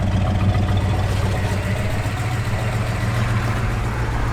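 A 1967 Chevrolet Chevelle SS engine idles with a steady, low, rumbling drone, constant and close with no revving or voices.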